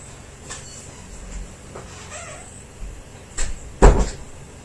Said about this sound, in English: that noise was one of our other cats getting into his little bat cave